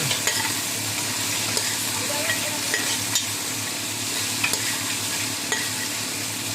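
Crushed black pepper stirred into a dish cooking in a pan, a spoon scraping and stirring over a steady loud sizzle of frying, with faint occasional clinks and no talking.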